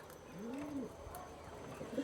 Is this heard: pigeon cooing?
yes